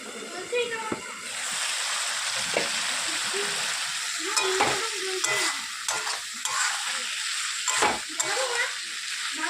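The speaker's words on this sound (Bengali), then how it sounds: "এটা এবার ঢাকা দিয়ে দিয়ে কষিয়ে নেব।" Figs sautéing in a pan, soft sizzling with intermittent stirring scrapes and clinks, fairly quiet and close, with a voice speaking over parts of it.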